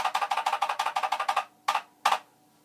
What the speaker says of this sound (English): That is the sound of an original PET keyboard.